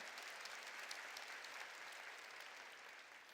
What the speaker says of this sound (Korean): 깨달을 사람만 박수치라고